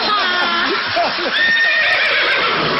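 A loud horse neigh plays as a sound effect on a game show, a long wavering whinny that fills the moment with voices overlapping it.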